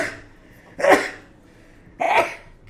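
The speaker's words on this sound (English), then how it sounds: "Oh, I gotta sneeze." Two sharp sneezes burst out about a second apart, each a sudden loud explosive blast that fades quickly, with quiet breathing in between.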